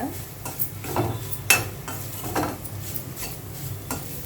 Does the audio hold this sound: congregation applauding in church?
no